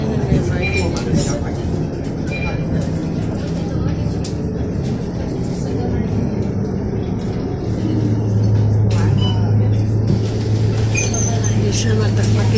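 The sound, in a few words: MRT metro train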